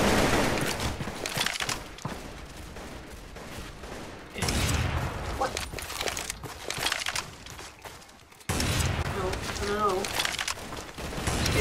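AK rifle fire in a Roblox gun game comes in sustained, loud automatic bursts that sweep through the whole stretch with brief breaks, while a player talks over the shooting.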